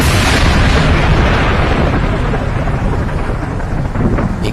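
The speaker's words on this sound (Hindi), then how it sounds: "अचानक आसमान में तेज बिजली कड़कती है।" Thunder crashes in a horror story as a loud, sustained rumbling roar that fills the scene without pause, then slowly fades a little. No voice is heard over it.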